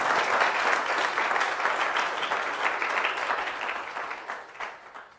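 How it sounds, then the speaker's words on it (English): Audience applause for a panel on Canada's housing market at the Empire Club, a steady, full round of clapping from a large crowd that gradually fades toward the end. "So another round of applause for our panelists and our moderator."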